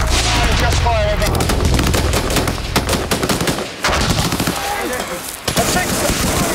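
Heavy gunfire from a Royal Marines engagement in Afghanistan, with dense bursts of automatic fire and rapid shots that crack continuously and loudly, occasional heavier thuds, and shouted radio-style talk mixed in throughout.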